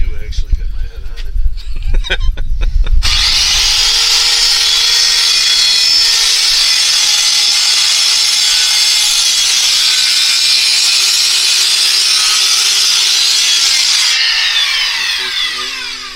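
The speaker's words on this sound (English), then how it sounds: "So while we have the saw right here, let's go ahead and cut this off" A power saw bites into wood with a loud, sustained high-pitched whine that runs steadily for about eleven seconds before trailing off, preceded by brief voices and handling knocks.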